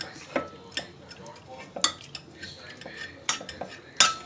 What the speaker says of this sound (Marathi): आता हे मी स सगळं असं हे करून घेते मॅश करून घेते सगळं एकजीव